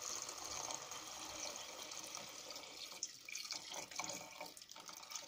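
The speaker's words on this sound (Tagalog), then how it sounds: "Tapos lagyan ko ng tubig." Water pours into a cooking pan of dried taro leaves being made into laing, a steady rushing splash that turns into choppier gurgles and drips toward the end.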